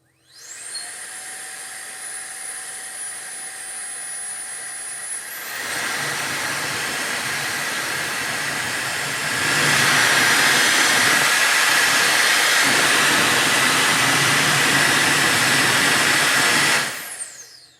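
A Jet Dryer Blower Air Duster blows a loud, steady rush of air, starting with a high whine, jumping to a stronger roar, stepping up again to a higher setting, then cutting off.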